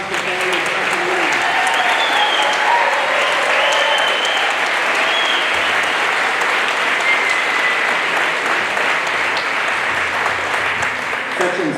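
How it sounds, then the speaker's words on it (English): A full audience claps loudly and continuously at a Nuclear Power School graduation ceremony, with a few faint voices rising within the sustained ovation. "So let's get up here and clap the family, clap the family."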